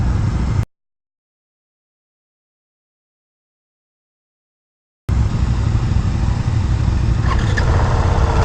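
A 2018 KTM 690 Duke single-cylinder motorcycle rumbles and revs while being ridden, a loud close engine and wind roar that cuts out into a few seconds of silence before returning.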